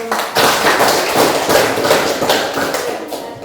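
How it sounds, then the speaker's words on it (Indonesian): A group gets a round of applause at a church-related teaching session: dense, steady clapping from a room of people, moderately loud and continuous for a few seconds, with no speech over it. "Tepuk tangan untuk"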